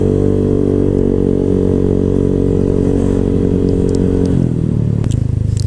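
A motorcycle fitted with an aftermarket exhaust pipe runs loud and close, a steady throaty drone that shifts pitch near the end as revs change, with some clattering.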